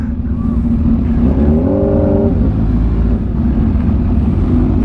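A Bugatti Divo's engine rumbles loudly and close, with a brief rising rev partway through over a continuous low growl.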